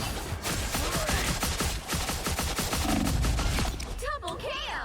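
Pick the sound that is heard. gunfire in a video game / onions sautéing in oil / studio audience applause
gunfire in a video game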